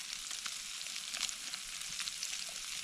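SPAM sizzles and fries in a pan over a campfire, giving a steady close crackling hiss with small pops scattered through it and no talking.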